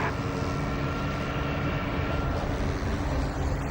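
An aircraft engine drones in the IL-2 Sturmovik video game as the plane dives, a loud steady roar with no talk over it.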